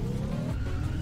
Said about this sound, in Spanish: Me he quedado ahí como derrapando esto.